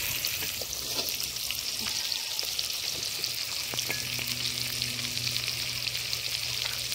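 Potatoes fry in hot oil with turmeric and salt, giving a steady, close, even sizzle that holds throughout with a few faint clinks and no talking.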